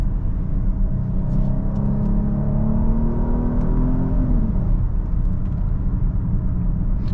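A 2024 Genesis GV80 turbo engine accelerating in normal mode, a steady in-cabin rumble and whir rising smoothly in pitch for several seconds, then easing off into a constant road drone, with no talking.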